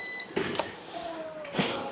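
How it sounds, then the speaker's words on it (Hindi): A multimeter gives a thin continuity beep while probing a phone circuit board, held steady over a faint background hum, with a couple of light clicks from the probes. "ये देखो ये भी बीप आ रहा है"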